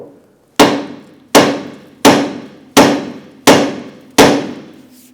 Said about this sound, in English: Let's go ahead and use our hammer, and we're going to strike the knuckle right here.